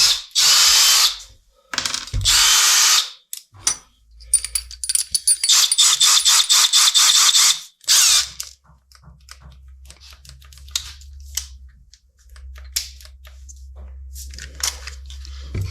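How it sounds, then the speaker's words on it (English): A cordless power drill whirs in loud bursts while drilling holes, with ratcheting chuck clicks and pauses between runs, then a low steady hum and scattered handling clatter, with a voice speaking now and then. "mounting up our drill bit into our drill, and drilling some holes"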